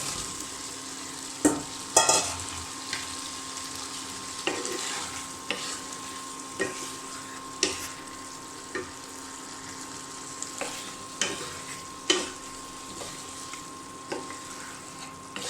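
Fried cauliflower and potato stirred into spices frying in a pan, a continuous loud sizzle broken by regular scraping strokes of a spatula every second or so.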